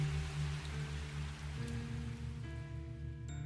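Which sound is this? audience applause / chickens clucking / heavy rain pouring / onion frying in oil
heavy rain pouring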